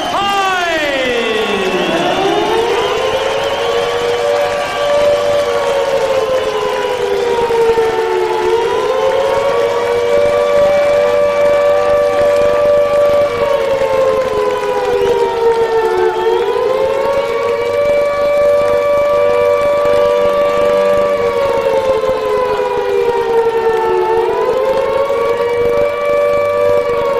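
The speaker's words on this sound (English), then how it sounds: "are those sirens sounding a warning for Hyde himself or for Klitschko?" A loud wailing siren rises and falls in long sweeping cycles at a heavyweight boxing ring entrance, filling the arena continuously with faint crowd noise beneath.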